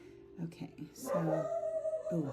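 A pet dog at home whines and yips in short, rising cries, close to the microphone, while a person talks over it.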